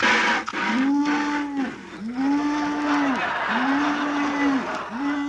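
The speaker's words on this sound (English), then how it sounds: "the cow is milked already." Repeated drawn-out cow moos rise and fall in four long, evenly spaced calls as a sound effect in an old radio comedy, loud and close over a slightly noisy background.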